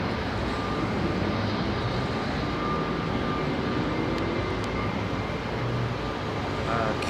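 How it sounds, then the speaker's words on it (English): A Qatar Cargo Boeing 777-200 freighter taxiing at Heathrow Airport makes a steady, broad jet-engine roar that stays loud and even throughout. "QTR 8292 Qatar Cargo 777-200 freighter on taxi for Basel"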